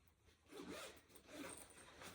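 A zipper on a backpack pocket is pulled in two quick, scratchy runs, close and fairly quiet, with no talking.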